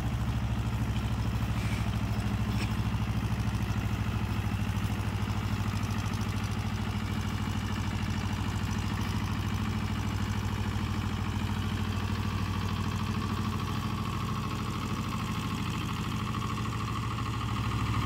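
A tractor with a 5-foot rotavator runs in grass two to three feet tall, a loud, steady, low engine drone with mechanical clatter that holds constant throughout with no talking.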